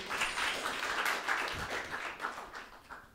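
Audience clapping fills the room as a quiz show between old classmates begins, a dense round of applause that gradually thins and fades toward the end.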